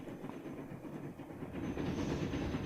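A Big Boy steam locomotive in the video game Transport Fever rolls along the track, a soft rumbling clatter of wheels that swells slightly louder toward the end, with no talk.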